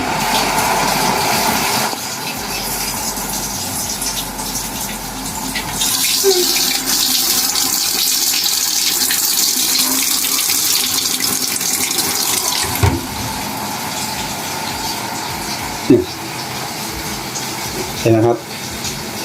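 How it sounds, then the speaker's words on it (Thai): Water runs steadily into a faulty washing machine that fills and drains nonstop, a continuous rushing flow with a few brief clunks and splashes near the end, no voices heard. "น้ำเข้าแล้วมันออกเลย"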